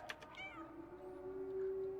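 A cat meows in a video game, one drawn-out, rising and falling meow, close and clear, with quiet background.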